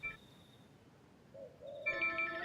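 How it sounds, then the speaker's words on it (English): A mobile phone ringtone cuts in near the end with bright repeating electronic tones, fairly quiet over a low background hum, after a brief faint chime at the start. "Oh, that's my phone."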